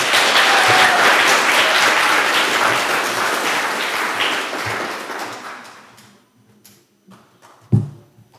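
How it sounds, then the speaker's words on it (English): A crowd at an 8th grade graduation ceremony gives a dense round of applause that gradually thins and fades to near silence, followed by a few scattered claps and a soft thump. "Please give a round of applause for Mr."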